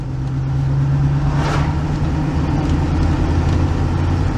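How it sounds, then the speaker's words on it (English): TVR Chimera 400HC sports car in fifth gear, heard from the cabin as a steady, loud engine drone with a strong low hum that runs smoothly throughout. "And then grab fifth. And again, everything's nice and smooth. We're accelerating."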